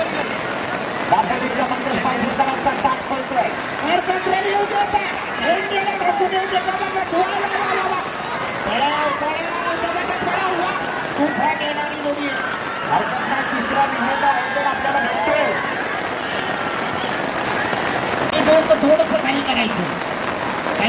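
Steady rain pours down at an outdoor bullock ploughing race in rural Kokan, its constant hiss blending with the babble and shouts of a crowd talking throughout.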